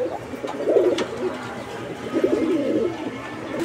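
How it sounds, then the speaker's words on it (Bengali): A pair of kaldom pigeons coo close by in two soft, rolling bursts, with a faint background murmur and a brief click between them. "এগুলো কালদম কবুতর নাকি? হ্যাঁ ভাই, কালদম কবুতর একটা জোড়া।"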